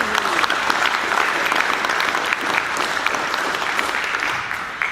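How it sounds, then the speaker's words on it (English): An audience claps steadily and loudly throughout at a career hub launch event, a dense, sustained round of applause filling the room with no break. "give them all a round of applause, please"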